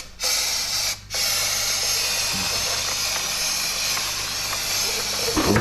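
Steady hissing spray from a powder coating spray gun applying chrome powder, continuous and close with a brief interruption near the start.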